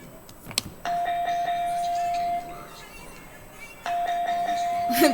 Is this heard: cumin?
no